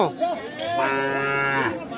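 A cow gives a long, loud moo lasting over a second, close by at a cattle market, with faint background noise.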